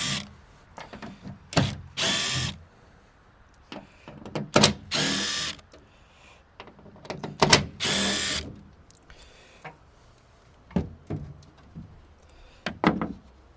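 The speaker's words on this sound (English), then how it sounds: "So I've got these attached to my drill here just to make it a little bit quicker" A cordless drill removing Torx screws whirs in repeated short bursts, pausing between each, close and fairly loud against a quiet background.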